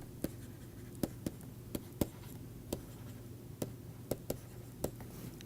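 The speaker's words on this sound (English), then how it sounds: "I want to write this" Pen or chalk strokes during a linear algebra lecture, faint and close, a scattered series of sharp taps and scratches over a low steady room hum, no talking.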